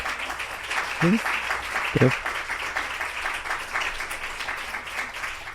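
Applause from an assembled audience after a guest talk, a steady crowd patter of clapping throughout with a couple of brief voiced interjections near the start.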